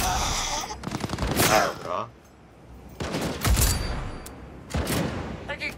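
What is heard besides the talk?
gunfire from Cyberpunk 2077 video game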